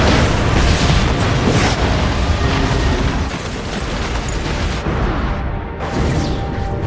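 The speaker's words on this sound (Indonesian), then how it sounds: "kapal yang mereka tumpangi pun meledak dan menewaskan sekitar 543 orang penumpang di dalamnya." A passenger ferry explodes in a film scene, a loud, sustained roaring blast with debris and rumble that dies slightly before a second surge of crashing noise.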